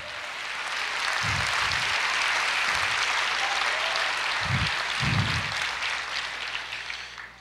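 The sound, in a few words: congregation applause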